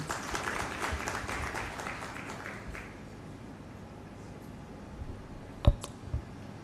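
Applause from an audience at a national competitiveness forum, a moderate wash of clapping that tapers off after a few seconds, leaving quiet room tone broken by a couple of sharp clicks.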